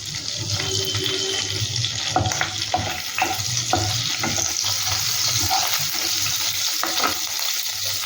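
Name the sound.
cumin and ginger frying in a pan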